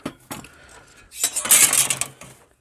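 Metal griddle spatulas clatter into a Blackstone griddle caddy: a few light clinks, then a bright jangling metallic rattle of tools settling, close and with no speech.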